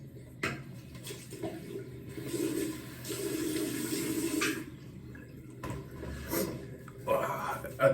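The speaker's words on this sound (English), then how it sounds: "I'm just gonna wet my face," Water runs from a bathroom sink tap while a face is splashed and wetted, a close rushing flow with brief interruptions, a few splashes and faint clinks near the end.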